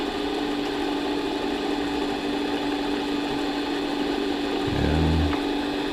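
A mini lathe turning a steel shaft gives a steady motor whine with a low hum, and a short low thump comes near the end.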